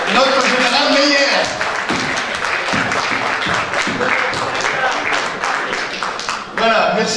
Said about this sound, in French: Il faut vraiment l'applaudir